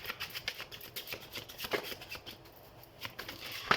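Tarot cards being shuffled by hand, a soft rapid riffling and flicking that repeats in short bursts, close and quiet.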